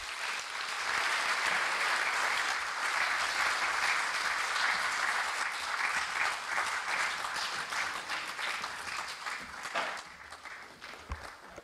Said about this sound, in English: another round of applause for a brilliant lecture